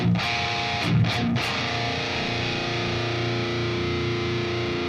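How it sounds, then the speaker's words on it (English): Electric guitar, a Strat-style "Sleeper" Strat, played through an amp simulator with a high-gain distorted tone, a few choppy chords at first, then a steady sustained chord ringing on alone. "I'm gonna get a tone going here with the Sleeper Strat"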